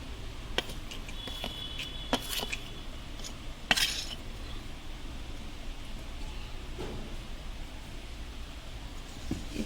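A spoon working chili powder into mango pickle pieces in a metal bowl, giving faint, sparse clinks and scrapes over a quiet background with one louder clatter partway through.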